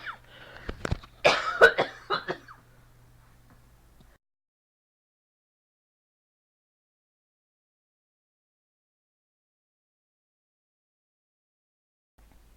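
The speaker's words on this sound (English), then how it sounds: "I had a coughing fit there" A short burst of harsh, repeated coughs with some throat clearing, close and loud, followed by a long stretch of silence.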